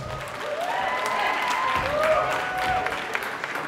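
Audience applauding at a concert for a singer, sustained clapping with crowd noise and tonal sounds underneath, steady throughout and rising slightly mid-way.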